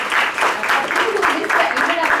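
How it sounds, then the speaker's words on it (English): Applause from an audience at a hospital grand rounds session in Chennai: dense, continuous clapping for a couple of seconds, fairly loud and close, with some voices mixed in. "So big applause for them."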